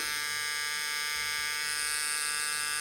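A steady, high-pitched electric buzz of a Dragonhawk X8 tattoo machine running at 9,000 RPM, loud and close, with a constant whine throughout and no voices.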